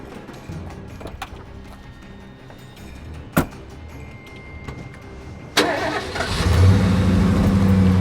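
A car engine turns over and catches, then revs and pulls away, growing louder and rumbling steadily near the end, after a quiet stretch with a few scattered knocks.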